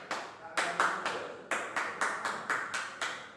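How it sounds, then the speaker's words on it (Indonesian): Scouts perform a rhythmic group clap, the tepuk pramuka: sharp, synchronized bursts of many hands in a patterned beat, about a dozen claps with short pauses, fairly close and without talk. "mari kita semangatkan dengan tepuk pramuka"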